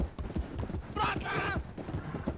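Hooves from a horse galloping in Red Dead, the Western video game, pound rapidly and closely, with people talking over the galloping.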